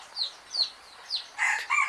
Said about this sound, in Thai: ที่จริงมันเป็นสายพันธุ์ไก่โตนะครับ